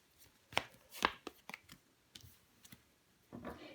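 Tarot cards being laid down on a table during a reading: a few soft, sharp card slaps and slides at irregular intervals, close and quiet, with a faint rustle at the end.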